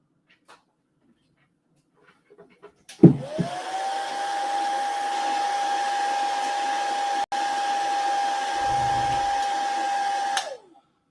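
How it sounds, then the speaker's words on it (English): A hairdryer switches on with a thump, runs at a steady whine for about seven seconds while drying varnish on a painted miniature, then shuts off and winds down; a faint low rumble joins briefly near the end. "I'll just make sure everything is dried with my hairdryer really quickly"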